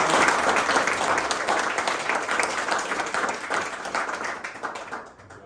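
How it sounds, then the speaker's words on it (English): An audience at a real estate strategy talk applauds the speaker, Kory, with a burst of full, close clapping. The applause gradually thins and trails off toward the end. "big round of applause for Kory"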